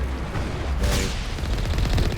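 Rapid turret gunfire in Mass Effect, a dense, continuous burst of loud shots with a sharp crack near the middle, no talking.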